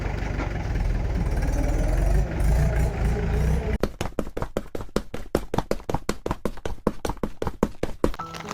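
A loaded tractor's engine runs at first as a loud steady rumble, then settles into a rhythmic knocking chug, evenly spaced beats close by.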